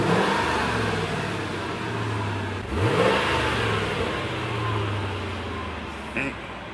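A Mercedes-AMG engine revs hard and loud, holding a steady throaty drone with a sharp throttle blip near the middle and a brief spike toward the end.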